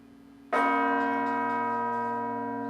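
A church bell at the Basilica of the National Shrine tolls once in mourning, a loud struck strike that rings out and hums slowly away with a long sustained decay, heard alone.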